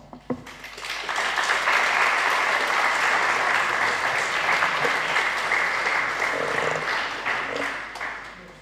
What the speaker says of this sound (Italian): Bello anche questo applauso